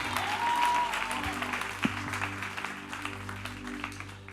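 Church congregation applauding to acclaim Jesus, a steady wash of moderate clapping that slowly fades, with a single sharper clap standing out and a sustained organ-like tone underneath.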